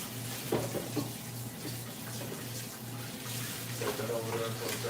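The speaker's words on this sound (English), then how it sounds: "Wash the hands off." Running tap water splashing over hands being washed in a kitchen sink, a steady faint hiss with a few louder splashes, over a low electrical hum.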